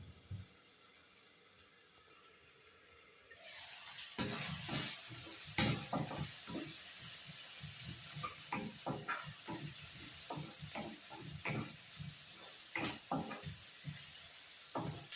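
Potato pieces cook in a covered pan, sizzling steadily while a utensil scrapes and knocks against the pan in irregular stirring strokes, close and fairly loud after a quieter opening.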